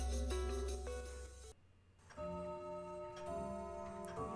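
Large clock ticking in the lobby of the Umineko video game, a slow regular tick-tock set under sustained musical tones that drop away briefly before swelling back, with no talk.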